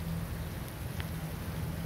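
Hail falling outdoors in North Vancouver, a steady dense patter and hiss of pellets hitting surfaces, with one or two slightly sharper ticks standing out, no talk.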